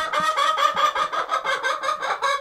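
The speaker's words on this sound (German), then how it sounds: "4 Hühner und einen Hahn, sehr gesprächig heute" Four hens and a rooster cluck busily on a farm, a near, continuous run of rhythmic clucks and chattering calls overlapping one another.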